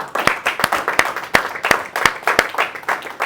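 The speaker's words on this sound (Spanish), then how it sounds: "Dar un aplauso a Jesucristo." A church congregation claps together in praise of Jesus Christ, a ragged burst of many hands with sharp peaks recurring steadily throughout, fairly loud and close.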